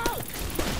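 Brief mechanical clicks and a ratcheting clack of a weapon being reloaded in the Left 4 Dead 2 video game, two quick sharp bursts about half a second apart.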